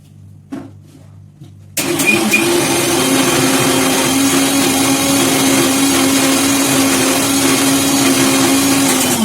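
A quiet room gives way to the loud, steady motor whine of a kitchen mixer grinder with its dry jar, starting abruptly and grinding at constant pitch, close and continuous.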